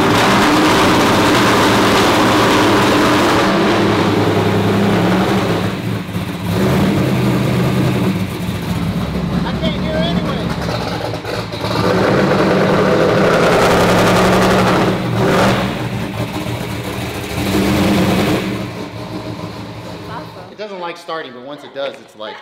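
1100 hp twin-turbo Ford GTX1 engine running loud and close, a deep rumbling drone that rises and falls with revs before cutting off abruptly near the end, with voices talking underneath.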